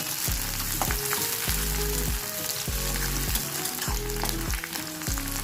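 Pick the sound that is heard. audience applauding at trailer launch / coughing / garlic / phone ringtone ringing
garlic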